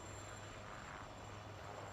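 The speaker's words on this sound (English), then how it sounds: "The massive helicopter push coming in from the British here as well." British Gazelle and Lynx helicopters in the WARNO strategy game make a steady, faint rotor and engine drone that holds evenly throughout with no other sounds.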